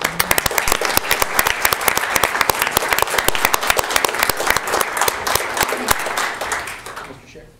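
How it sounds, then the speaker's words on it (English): Applause from the audience at a county board of commissioners meeting: sharp, distinct claps from a modest crowd, steady and close, tapering off near the end. "So again, join me in a round of applause, please"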